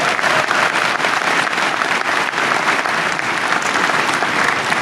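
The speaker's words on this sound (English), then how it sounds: "Hey, a little applause, you guys." Dense, steady applause from a large audience at a tech conference keynote, loud and continuous with no pauses, many hands clapping at once.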